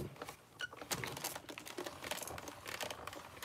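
A die cutting machine pressing a holly embossing die on a crafting table gives a run of crackly clicks and crunchy taps, steady for a few seconds at close range with no voices.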